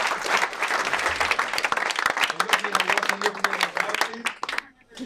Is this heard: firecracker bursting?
no